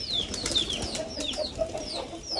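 Pet pigeons flapping and fluttering their wings as they come in to land, mixed with chirps and bird calls, close and busy throughout with no talking.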